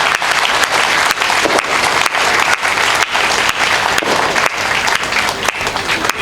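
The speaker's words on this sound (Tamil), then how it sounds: "ஒரு நிமிஷம் இடைவிடாத ஒரு கைத்தட்டு கொடுத்துடலாம்" Loud, sustained applause from a large crowd at a temple consecration debate event, dense and continuous clapping that keeps going steadily throughout without pause.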